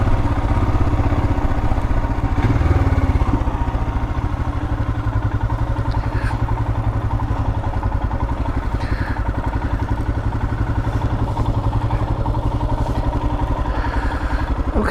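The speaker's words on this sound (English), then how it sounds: "Luckily down here there's motorcycle only parking." Motorcycle engine idling in a motorcycle-only parking area, a steady close, loud low throb with regular pulsing rhythm and faint clatter throughout.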